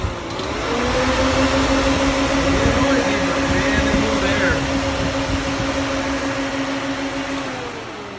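Ford Contour electric cooling fans fitted to a Foxbody Mustang spin up and run with a steady whirring hum and rising-then-holding tone, close and fairly loud, then wind down slightly.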